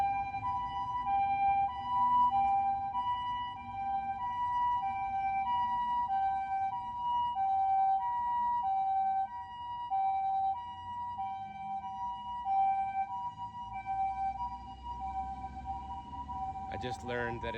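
A steady wailing siren rises and falls continuously at moderate distance on a Tokyo street, with a vehicle rumbling underneath and a brief sharper noise at the very end.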